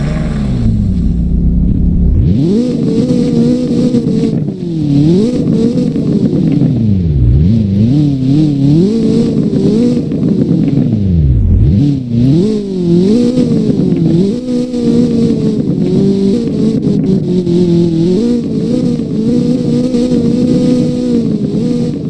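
A car engine in Roblox Southwest Florida starts up and revs repeatedly, rising and falling in loud, close sweeps over a steady rumble that lasts throughout with no talk.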